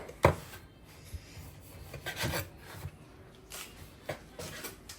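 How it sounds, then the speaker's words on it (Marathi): A knife trims the crusts off two slices of bread for an egg bread roll snack, giving a few faint, scattered rasping strokes with quiet gaps between them, close by and with no talk. "ब्रेडच्या कडा पहिले आपल्याला इथे अशा कट करून घ्यायच्या"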